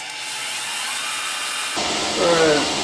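Grizzly G0752 10 x 22 variable-speed metal lathe spinning up to 1400 RPM, a steady whirring motor hum that shifts higher partway through, loud and continuous with no talk.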